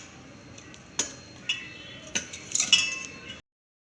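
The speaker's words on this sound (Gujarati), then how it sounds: "હવે આપણે સાલ ઉખેડી લીધી છે તો આપણે હવે કટકા કરી લઈશું" A knife cuts a peeled mango into pieces on a board, giving a handful of sharp taps and clinks spaced irregularly, then quickening near the end, close and fairly quiet before stopping.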